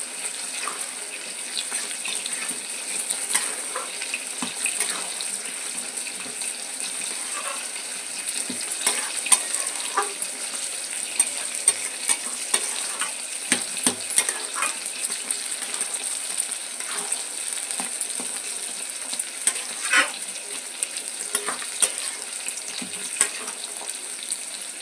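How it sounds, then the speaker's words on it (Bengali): Fried spices being stirred into boiled jujube pickle in a pot; a steady wet sizzle runs throughout with soft scraping stirs and occasional clicks, close and even in level. "ভেজে রাখা মশলাগুলো দিয়ে দিচ্ছি। ভালো করে মিশিয়ে নেব।"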